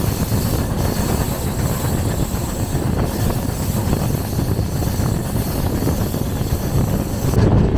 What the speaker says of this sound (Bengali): মোটামুটি ট্রেন রাইট টাইমেই চলছে